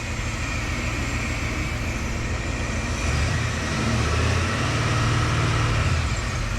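A 1980s Ford F-series pickup engine idles steadily with a low, even rumble, then its speed rises about halfway through, the drone growing slightly louder and higher.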